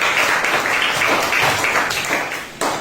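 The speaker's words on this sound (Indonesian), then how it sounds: "berikan tepuk tangan" Audience applauding at the close of a discussion session, dense continuous clapping that is fairly loud and fills the short span without speech.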